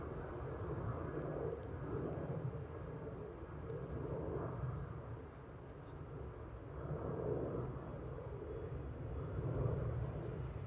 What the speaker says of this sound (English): Listen to those little engines. It sounds so sweet.